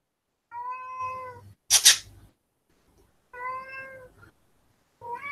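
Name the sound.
cat meowing loudly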